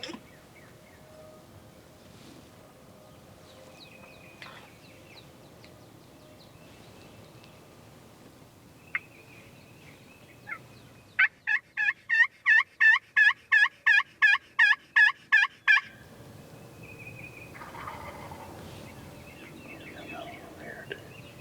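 A wild turkey gobbler gobbles over a ridge line, a rapid burst of about a dozen rattling gobble notes in the middle, preceded and followed by quiet whispered talk and faint outdoor background.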